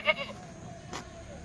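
A short bleat from a goat rises near the start, then a second faint call follows over low background rumble.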